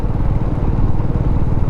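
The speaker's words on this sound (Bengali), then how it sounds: "নিজের বাইক চালিয়ে আসছি" A motorcycle is ridden along a road on a trip to Purulia, its loud, close engine drone rumbling steadily with no break and no voices.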